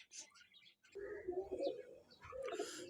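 Parwazi pigeons kept at a pigeon club give soft, low cooing calls close by in a quiet space, with faint voices murmuring nearby.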